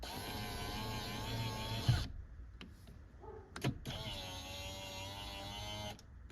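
A small electric motor whines steadily in a Lexus SC 400 tilt steering column, runs for about two seconds, pauses with a couple of clicks, then runs again for another two seconds, close up and fairly quiet.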